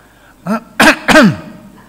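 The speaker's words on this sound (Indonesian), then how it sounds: "Jangan batuk-batuk di belakang, Pak." Three quick, close throat-clearing coughs from a man in a mosque congregation, the first lighter and the next two harsher and louder, alone in a quiet room.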